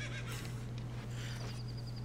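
Horse neighing in The Legend of Zelda: Ocarina of Time, a short whinny heard alone over a steady low game hum, moderately loud and close.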